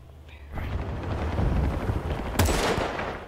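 A bolt-action rifle shot in the video game Bad Company 2 on the Arica Harbor map, with a sharp report near 2.4 seconds over a dense rumble of battlefield noise and distant fire.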